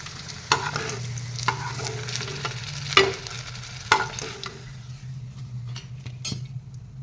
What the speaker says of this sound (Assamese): এয়া মোৰ বেঙেনাখিনিও অলপ ফ্ৰাই কৰি ল'লোঁ।